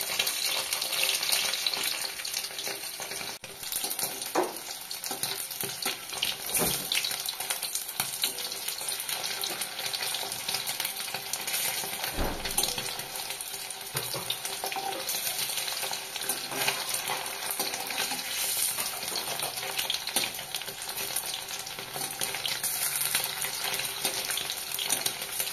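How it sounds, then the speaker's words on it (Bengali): Papaya paneer pieces sizzle steadily in hot oil in a pan, a continuous close crackling hiss with occasional sharper pops and no talking. "এইভাবে আমি সবগুলোই ভেজে নেব।"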